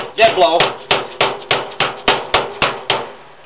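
A dead blow mallet drives a spur drive center into wood on a lathe, about ten dull, evenly spaced thuds in quick succession, close and fairly loud.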